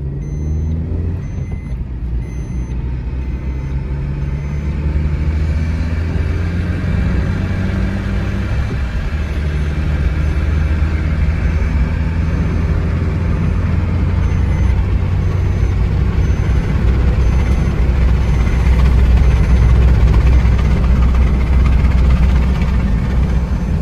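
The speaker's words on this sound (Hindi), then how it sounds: "यहाँ से टर्न करते हुए एक बार हैवी पिकअप चेक करते हैं इस गाड़ी का" A 2020 Maruti Suzuki Baleno hatchback's engine pulls hard under heavy acceleration during a pickup test, a loud, steady, rising drone close to the microphone throughout, with no talking.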